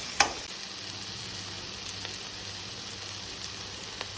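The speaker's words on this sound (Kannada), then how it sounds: "ಟೊಮ್ಯಾಟೊ ಮತ್ತು ಈರುಳ್ಳಿ ಎರಡು ಕೂಡ ಒಳ್ಳೆ ಮಾಡಿ ಮಿಕ್ಸ್ ಆಗಿ ಒಳ್ಳೆ ಮಾಡಿ ರೋಸ್ಟ್ ಆಗಬೇಕು" Chopped tomato and onion roast in a pan for Baffat chicken, giving a constant soft sizzle close by, opened by a sharp utensil clack and followed by a couple of faint taps, with no voices.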